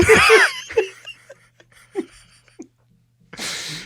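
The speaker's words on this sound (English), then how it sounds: "Did you have like a sneeze coming on, or it just came out of nowhere?" A loud, sudden sneeze bursts out at the start, followed by scattered quiet breaths and small vocal noises, then a gust of breathy noise.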